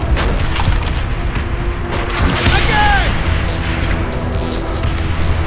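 Dense, loud machine gun fire and booming explosions from the Call of Duty: World at War video game fill the whole stretch, with shouting voices mixed in.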